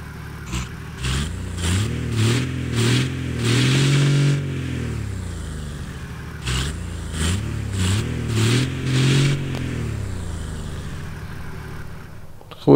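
A Bugatti car's engine in a video game revs up in repeated rising and falling bursts, drops back to idle, then revs again in a second similar run, steady and close with no talking.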